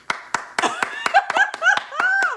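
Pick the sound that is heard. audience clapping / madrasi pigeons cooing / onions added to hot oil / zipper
audience clapping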